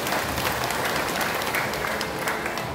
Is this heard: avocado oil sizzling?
no